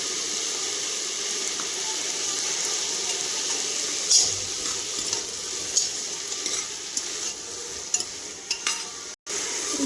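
Vegetables being sautéed and stirred in a pan with salt added, a steady soft sizzle under occasional light scrapes and clinks of the spatula, with no talking.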